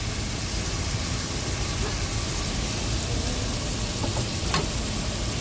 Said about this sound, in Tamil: கொஞ்சம் வதங்கட்டும் நல்லா.